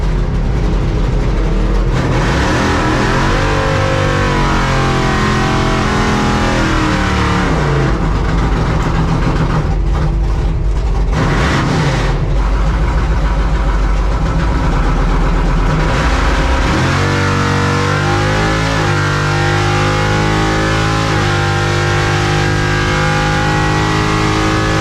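A drag racing truck on the strip for a test pass, its engine loud and close, idling roughly, then revving in sweeping bursts with pitch climbing and dropping before settling into a deep, heavy rumble, no talking.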